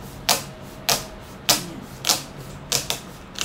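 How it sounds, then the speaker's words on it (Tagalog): Strips of white packing tape pulled and pressed onto a balikbayan box, giving five sharp ripping bursts at roughly even intervals, close and fairly loud, with no talk. "Tuloy-tuloy lang ang pagpapacking tape ng second coating na white."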